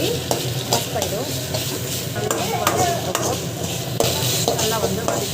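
Ginger garlic paste sautés in a pan with a loud, continuous sizzle under busy stirring and scraping of a utensil against the metal. No voices.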